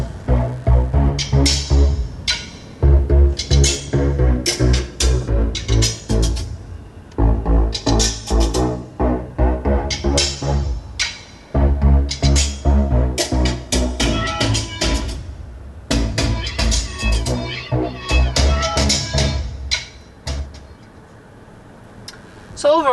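Music plays through the 215-watt seven-speaker audio system inside a 2022 Honda Passport TrailSport SUV, a full band mix with punchy bass and steady beats that is loud and continuous, heard in the cabin and fading near the end.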